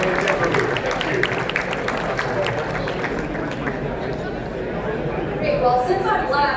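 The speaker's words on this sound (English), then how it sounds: "How about let's round of applause for Nghi for you." A panel audience at a Vietnamese-American community event about Little Saigon claps in a sustained round of applause mixed with crowd chatter, thinning out toward the end.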